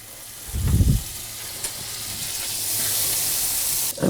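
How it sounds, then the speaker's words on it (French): A small knob of butter sizzles in a frying pan used to cook féra fish fillets with hazelnuts, giving a steady hiss that swells gradually after a brief low thump of the pan at the start, with no talking. "on met un petit morceau de beurre"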